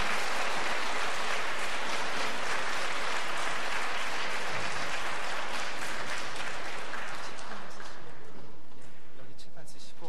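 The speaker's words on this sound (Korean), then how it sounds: "여러분들 크게 환영의 박수 부탁드립니다." A lecture-hall audience claps in welcome for a priest arriving to give a Lenten talk, a dense, sustained wash of many hands that thins toward the end, with a voice speaking over part of it.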